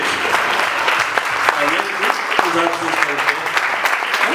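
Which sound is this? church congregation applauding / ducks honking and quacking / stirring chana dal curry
church congregation applauding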